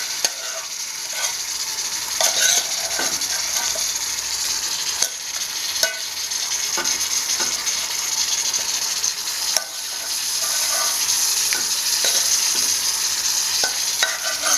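Crab with kudampuli tossed and stir-fried in masala paste for a Hawaiian crab roast, a steady sizzle with repeated scraping stirs of the spoon against the pan throughout.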